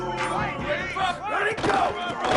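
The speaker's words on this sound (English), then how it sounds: "This crowd ready to make its presence known." A football stadium crowd roars and cheers loudly, with massed voices swelling in waves of shouting and yelling that fill the space, close and continuous.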